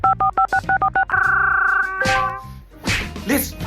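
Telephone dialing tones sound as a quick series of about seven short beeps followed by a sustained ringback tone, then some sharp thwacks and noise.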